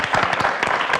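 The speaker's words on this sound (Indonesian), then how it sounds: "Boleh dikasih tepuk tangan ya." Studio audience applause on a TV health talk show, a dense burst of clapping that fills the whole moment at steady loudness with no voices over it.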